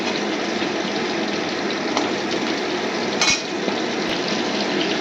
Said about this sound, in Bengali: আর আমি সর্ষের তেল দিয়ে ভাজছি পটলটা